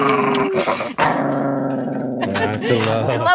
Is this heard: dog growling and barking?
yes